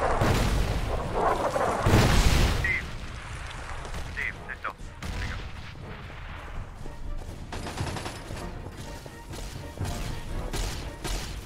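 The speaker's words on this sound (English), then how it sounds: "More mortars!" Video game mortar and artillery barrage lands in a rapid volley of heavy booms and crashing impacts, loudest early on, then continuing as scattered blasts and gunfire-like cracks throughout.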